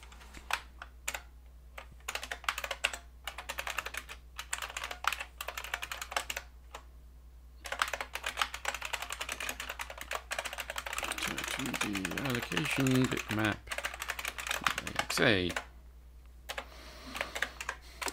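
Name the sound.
typing on a clicky computer keyboard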